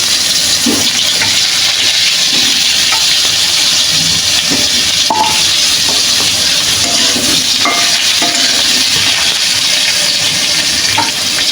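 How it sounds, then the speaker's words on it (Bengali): Cut potatoes frying in a pan for a chicken and potato curry give a loud, continuous sizzling hiss with occasional soft clicks of stirring. "আমি এখন ভাজব আলুগুলো"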